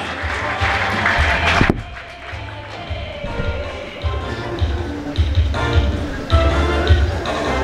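Guests at a graduation certificate ceremony at Faraja Seminary in Moshi clap for a graduate. Uneven bursts of hand claps and tapping rise and fall over several seconds, mixed with deep thuds and shuffling in a lively hall.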